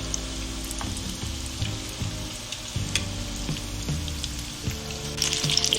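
Potato cheese cutlets fry in hot oil with a constant loud sizzle and crackle, dotted with small pops and faint clinks, close and steady throughout without any talking.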